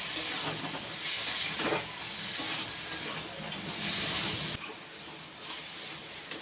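Pre-fried potatoes sear with spice paste in a pan for a boal fish-bone chorchori, making a steady, fairly quiet hissing sizzle with a brief stir around the middle.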